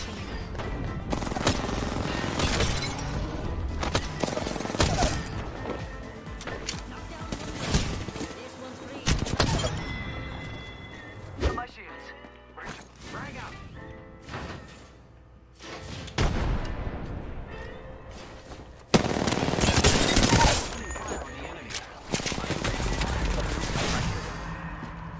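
Triple Take marksman rifle gunfire in the video game Apex Legends, with loud, dense bursts of shots and booms filling the stretch, broken by brief lulls and mixed with other battle noise.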